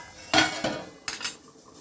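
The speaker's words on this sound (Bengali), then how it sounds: "নাড়তে হবে, তা নয়তো তলাটা আটকে যাবে" A spoon stirs chicken curry in a pot, making about three sharp metallic scrapes and clinks against the pot in quick strokes, close and clear.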